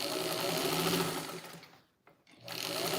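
A 1953 Singer 15 sewing machine stitches a quilt with a steady, close mechanical whir. It runs, slows to a brief stop and then starts up again.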